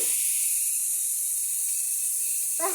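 Water splashed into a hot pan of spice paste ground with oil and salt, for home-cooked bottle gourd greens, gives a steady, loud hiss of sizzling steam that carries evenly through the whole moment.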